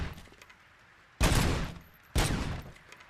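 A makeshift prototype gun in a video game being fired during calibration: two loud, close bursts about a second apart, each with a sharp onset that trails off into a noisy decay.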